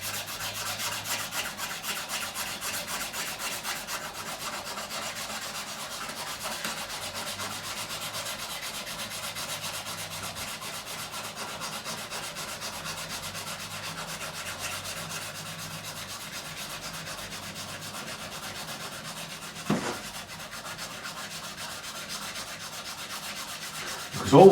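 Fret edges on a 1957 Hofner President guitar are rounded over with a file or abrasive, giving a steady, fast, soft rasping rub that runs continuously, close up, with one brief knock near the end.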